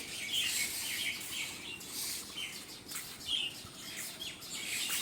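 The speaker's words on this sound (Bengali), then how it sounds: "এখানে দুটো পাখি আছে" Steady, busy chirping and tweeting from a few small caged birds close by on a rooftop garden, continuous with overlapping calls and no talking.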